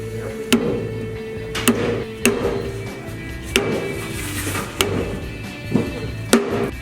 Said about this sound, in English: We're going to get knocking it in with a dead blow hammer.